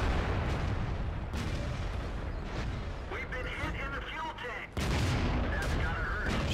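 Tanks fire in the World of Tanks video game, with repeated booming cannon blasts and explosions layered over dense battle noise, and a short lull before the firing resumes.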